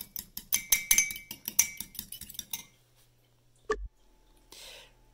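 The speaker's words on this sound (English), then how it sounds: "Next, you want to crack your egg into the cup and stir it up" A utensil stirs a cracked egg in a mug, giving a quick run of bright clinks against the sides, then a pause, one louder knock and a soft scrape, close and alone.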